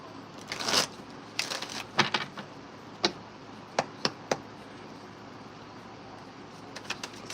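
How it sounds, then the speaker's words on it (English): Tarot cards are shuffled in short bursts, followed by several sharp, separate taps and clicks, quiet and close with no talking. "I gotta shuffle that one more time."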